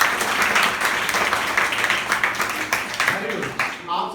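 Schoolchildren at a composite school clap together in a loud, ragged burst of applause that gradually thins toward the end, with voices mixed in.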